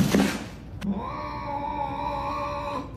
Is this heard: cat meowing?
yes